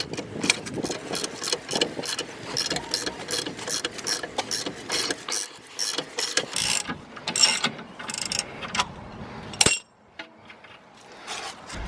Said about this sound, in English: Now we're gonna go and take a ratchet.